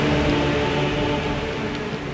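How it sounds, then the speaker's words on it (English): Steady rain from a storm at sea pours down in a dense, continuous hiss with a low rumbling undertone, like a heavy storm. "A storm gathered on the high seas."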